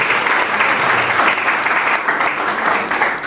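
An audience applauds loudly for Stéphane at a talk-show taping, dense continuous clapping from a crowd that holds steady for a few seconds without any voices.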